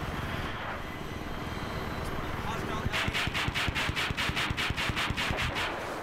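Helicopter flying in a Battlefield video game match on the Gulf of Oman map, a rhythmic rotor thump that grows louder and closer in the second half, with talk over it.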